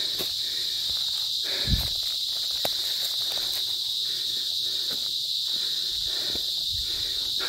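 Loud, steady insect chorus, taken for crickets, on a daytime trek along a stone-built path in the Bhivpuri and Kusur Ghat hills, a continuous high drone with a few faint footsteps and rustles beneath.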